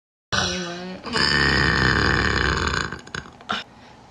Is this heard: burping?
yes